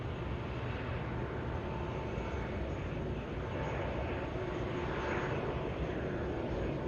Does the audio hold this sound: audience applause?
no